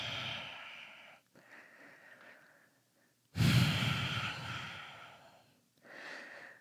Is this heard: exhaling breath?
yes